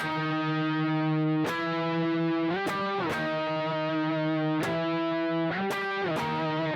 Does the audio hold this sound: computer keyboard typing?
no